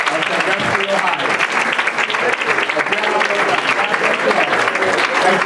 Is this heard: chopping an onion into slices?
no